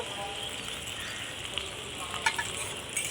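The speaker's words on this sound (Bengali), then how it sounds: "সবজিগুলো একটু নাড়াচাড়া করে নিয়ে এখন কুচিয়ে রাখা আলুটা দিয়ে দেব।" Vegetables frying in a pan and being stirred for homemade noodles, a steady close sizzle with a few sharp scraping clicks of the stirring utensil near the end.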